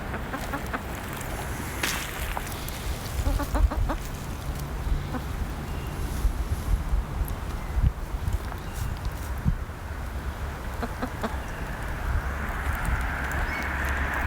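Hens clucking in a backyard chicken yard, a steady mix of soft clucks and scratching with occasional louder calls, continuous at moderate distance with no talk.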